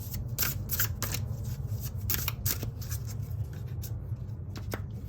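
Tarot cards being shuffled by hand, a steady run of soft riffling and papery flicks close by, repeated over several seconds above a constant low background hum, with no talking.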